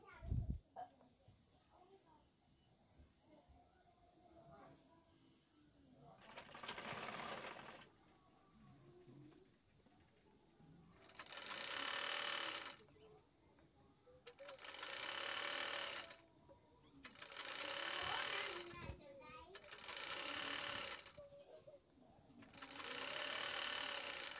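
A sewing machine stitches a trouser seam where the hip panels are joined, running in five or six loud bursts of several seconds each, with short pauses between them.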